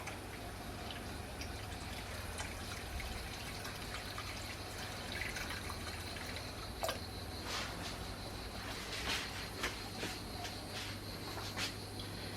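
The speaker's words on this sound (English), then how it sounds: "Place your pressure cooker in a sink filled with cold water." Faint, steady water runs and trickles in a kitchen sink as a Tefal 6L pressure cooker cools in cold water. The flow is soft and continuous, with occasional small drips and splashes and no speech.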